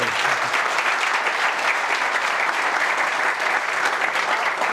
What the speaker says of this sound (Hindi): इनके लिए भी जोरदार ताली हो जाएगा